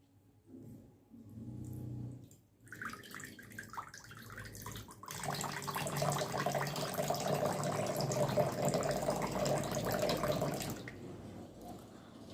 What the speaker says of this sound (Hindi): फिर वह उसमें पानी डाल देती है